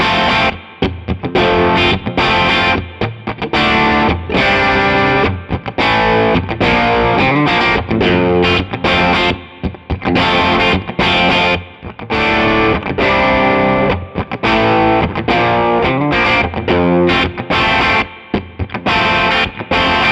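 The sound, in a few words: Schecter Nick Johnston PT electric guitar playing hard rock riff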